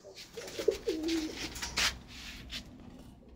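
Several soft, rolling coos come from high-flying pigeons kept for sale, close by and fairly quiet, followed by faint rustling.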